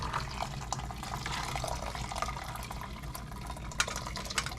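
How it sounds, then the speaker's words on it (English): Liquid poured slowly through a concave strainer into a bucket while making ramen, a steady close trickle and splash running without a break, with occasional drips standing out near the end. "So I'm pouring there nice and slow."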